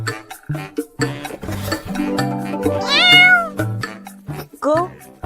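A cartoon kitten meows several times over bright, bouncy background music, with a rising, drawn-out meow in the middle.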